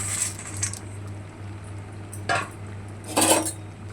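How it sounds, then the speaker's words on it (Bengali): A spoon scrapes and clinks against a pan as bori is stirred into lau pata ghonto, a bottle gourd leaf curry, with a few sharp metallic knocks over a steady low hum. No one speaks. "এবার আমরা বড়িটা মিশিয়ে দেব।"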